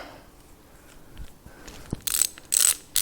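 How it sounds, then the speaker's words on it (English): An old torque wrench from a barn find is handled, with soft clicks and knocks, a sharp click, then two short loud bursts of ratchet clicking near the end. "That looks like a torque wrench."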